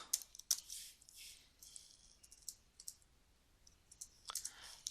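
Quick, light clicking of keys on a computer keyboard, in short sparse bursts and pauses, close and fairly quiet with no voices.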